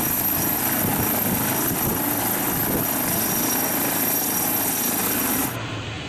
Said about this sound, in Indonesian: ini helikopter ambulan teman-teman